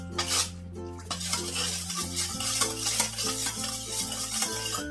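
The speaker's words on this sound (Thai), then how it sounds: "แล้วก็มาคนนะคะ ให้น้ำตาลเป็นลายเนาะ" A spoon stirs sugar and fish sauce in a bowl for a spicy red-pork wonton noodle salad, making continuous close scraping and clinking over a steady tonal hum in the background.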